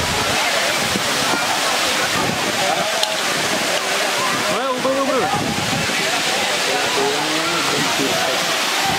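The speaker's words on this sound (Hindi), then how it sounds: "ये वाटरफॉल है" The Dudhsagar waterfall pours in the rainy season, a loud and constant rushing roar heard close by, with people talking over it throughout.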